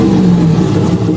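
A 2017 Ram 1500 engine with no muffler or tailpipes gives a loud, close, deep exhaust drone that holds steady for a short moment.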